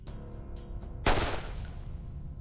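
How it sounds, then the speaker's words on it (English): A revolver fires once in a video game, a single sharp loud blast with a short echoing tail off surrounding walls. "The deafening gunshot echoes against the walls."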